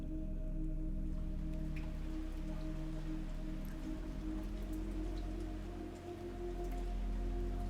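Morning drizzle falls in a steady soft hiss, constant and close, with a low hum running underneath and no other sounds.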